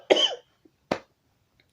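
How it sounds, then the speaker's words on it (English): Two short, dry coughs from someone close by, the first a bit longer and harsher, separated by a pause of near silence. "I gotta get rid of this cough soon."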